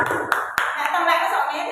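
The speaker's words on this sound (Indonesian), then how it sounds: "tepuk tangan untuk kita semuanya" A group claps their hands in a classroom-style gathering, a brief patter of applause with a couple of sharper single claps, heard under a speaking voice.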